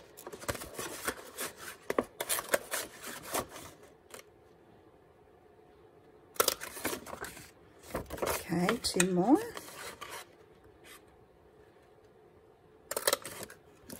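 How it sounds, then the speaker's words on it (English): A paper punch clicks and snaps as it cuts the edges of an 8¾ by 9 inch paper sheet for a Christmas cracker craft, with several sharp punches and rubbing sounds in bursts, and brief talk in between. "I'm gonna slide up the punch and line up that center mark there with the edge of the paper and punch"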